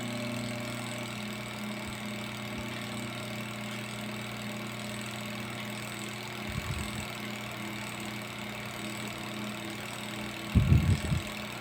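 A spin dryer motor hums steadily at a low pitch, with a couple of brief rattling bursts near the end.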